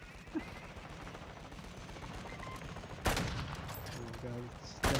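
A SAM turret firing in a video game: a low, rumbling battle bed broken by two sudden loud launch blasts, one midway and one at the very end, with faint electronic tones between them.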